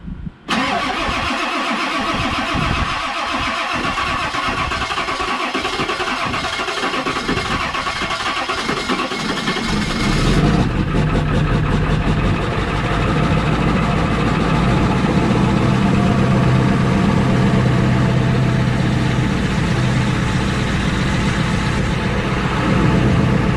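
Cold start of a 7.3 diesel truck engine: cranking for about ten seconds, then the engine catches and settles into a loud, rough, steady idle that continues to the end.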